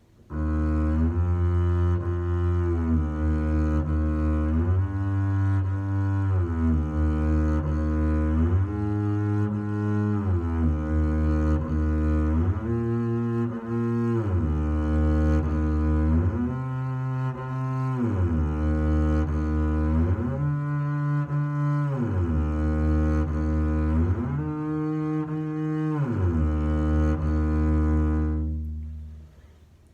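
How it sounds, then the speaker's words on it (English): A bass guitar plays a slow stepwise scale, each note held, with faint slides audible as the fingers shift between positions. "you're going to hear the shift, and you might even hear the notes in between the shift"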